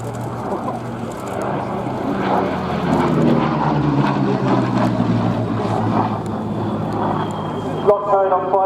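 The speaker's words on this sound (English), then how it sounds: "From the left, the Spitfire. From the right, the Hurricane." Spitfire and Hurricane propeller fighters fly past at an air display, a rising and falling engine drone with a doppler sweep, underneath a commentator's voice and crowd noise.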